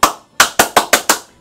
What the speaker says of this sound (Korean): 박수를 보내고 싶습니다.